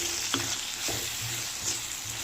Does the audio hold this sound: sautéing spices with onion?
yes